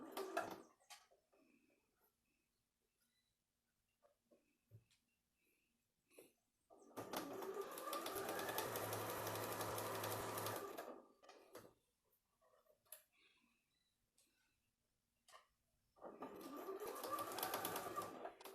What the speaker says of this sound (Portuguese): O barulhinho dessa máquina é agradável de ouvir.